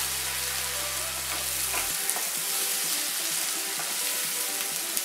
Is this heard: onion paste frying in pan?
yes